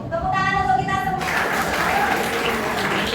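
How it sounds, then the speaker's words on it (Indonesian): Group of participants at a coaching session clapping together, breaking out after a brief tonal sound at the start into a steady dense burst of hand claps that continues to the end. "Tepuk tangan untuk kita semua."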